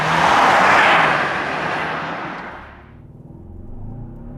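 A 2024 Hyundai Santa Fe SUV with a dual-clutch transmission accelerates hard, its engine roar loud and broad at first, then easing off into a lower, steadier rumble.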